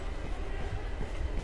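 Train pulling into a station in a game, a low steady rumble of rolling wheels and carriage noise, fairly faint and brief, with no talk.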